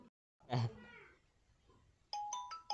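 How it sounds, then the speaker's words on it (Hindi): An incoming call ringtone on a Redmi mobile phone starts near the end with a repeating bright electronic melody. Someone speaks briefly before it. "अभी मैं दूसरा फ़ोन से इस मोबाइल पर कॉल कर रहा हूँ ताकि आप लोगों को समझ में आए"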